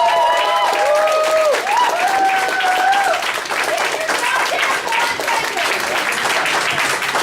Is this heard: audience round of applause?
yes